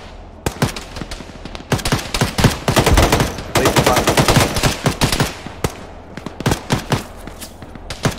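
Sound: machine gun firing in a video game (ShackTac)

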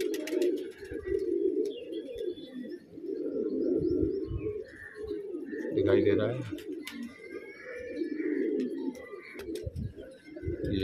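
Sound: pigeon cooing

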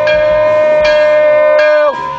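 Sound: bell being rung

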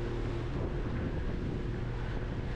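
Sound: strong wind on a boat on rough water

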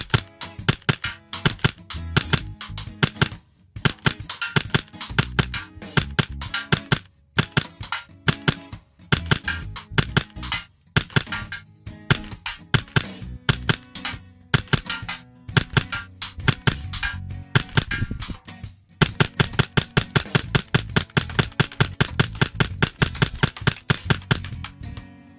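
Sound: Hi-Capa 4.3 airsoft pistol shooting at target

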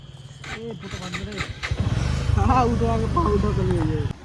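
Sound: motorcycle riding off

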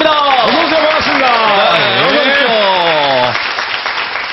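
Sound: audience applause welcoming students on stage

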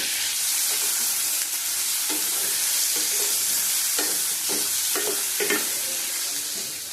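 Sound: chicken frying in pan for atta momo

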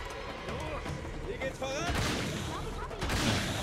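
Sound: gunfire in video game Uncharted 3: Drake's Deception

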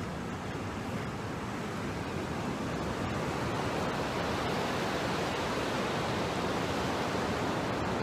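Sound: ocean waves breaking on a beach

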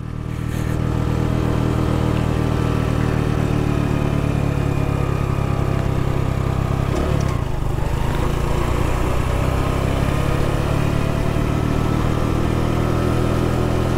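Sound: Honda Pop motorcycle engine braking downhill in first gear

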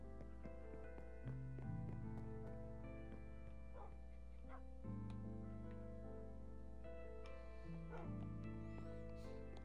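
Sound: dog barking in Minecraft (video game)

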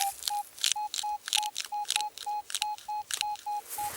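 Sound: metal detector signal tone

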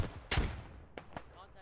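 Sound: gunfire in video game

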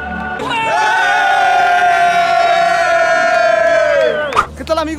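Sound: audience applauding and cheering

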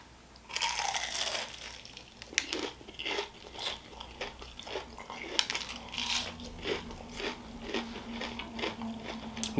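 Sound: crunching BonChon Korean fried chicken and onion rings

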